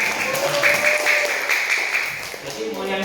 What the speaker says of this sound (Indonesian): Tepuk tangan untuk nenek moyang kita yang sederhana.